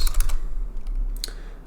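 Close, quick keystrokes on a computer keyboard, typing into a search field in a password manager, come in short clustered bursts with brief gaps between them. No speech.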